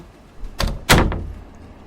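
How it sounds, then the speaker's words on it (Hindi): A door swings shut in a corridor with a short scrape followed by a loud, close thud that rings out briefly into quiet, with no speech. "दरवाजा बंद हो गया।"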